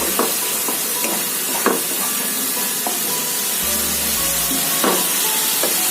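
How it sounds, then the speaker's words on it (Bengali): Spice masala frying in oil for a Bengali egg curry, stirred until the oil separates: steady broad sizzle throughout, with a few distinct scraping stirs of the spatula close up and no voices. "এবার এটাকে তেল ছাড়া অবধি কষাতে হবে।"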